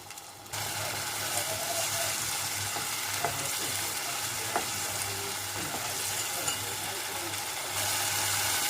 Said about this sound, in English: So I'm just going to raise the heat and then mix these until these are nicely mixed up.